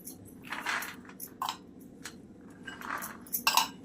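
Mixed vegetables for bhogi bhaji are stirred in a metal pot, giving soft squishy scrapes and scattered light clinks of a spoon against the pot, quiet and close with no voices.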